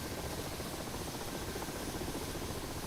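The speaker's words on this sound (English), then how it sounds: "You can just hear the engines slowly spooling down there." Helicopter engines spooling down during autorotation in a video game, a steady, faint whirring rotor drone with a fluttering texture, continuous and unchanging, heard alone without speech.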